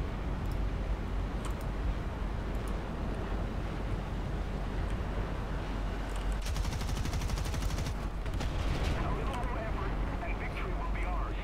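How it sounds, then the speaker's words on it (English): Rapid bursts of M19 Duster anti-aircraft gunfire in War Thunder, sharp repeated shots over a constant engine rumble and wind-like noise, with a dense burst of fire around the middle. "That M19, that Duster is shooting at me now"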